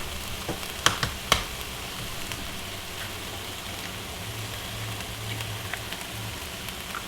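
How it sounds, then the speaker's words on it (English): An egg cracked straight into a hot frying pan sizzles and crackles, a steady hiss with a few sharp pops near the start. "I can just dump the egg, crack the egg straight into the pan."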